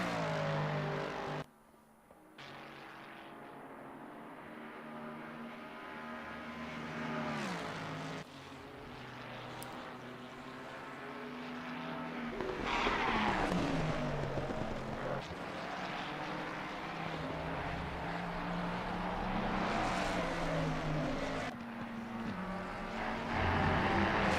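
Race cars in a 24 Hours of Spa sim racing game drone and whine through gear changes, the engine notes rising and falling at moderate volume as the field runs on, with a brief gap of near-silence early on.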